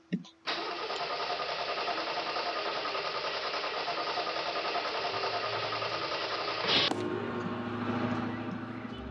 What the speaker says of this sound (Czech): Super, traktor nastartoval.